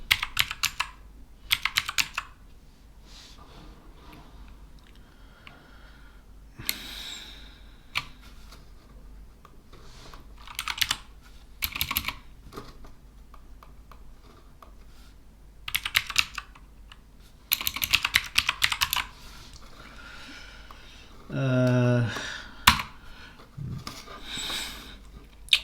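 Bursts of clicky typing on a computer keyboard, close and crisp, arriving in short irregular runs separated by pauses, with a brief voice near the end.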